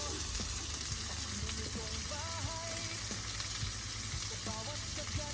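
Steady loud sizzling of sisig meat frying on a hot sizzling plate, with occasional clinks of a utensil stirring, close up.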